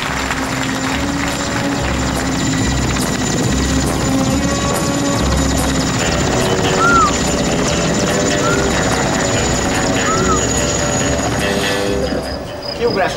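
A helicopter in flight on a television show set drones loudly and continuously with a steady rotor throb, and a faint higher squeal rises briefly a few times over the engine noise.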